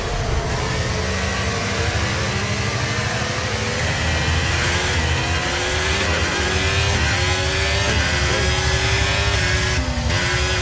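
A Formula 1 racing car's internal combustion engine revs loudly and continuously in the F1 23 video game, rising and falling through gear changes with a steady, dense drone and no talk.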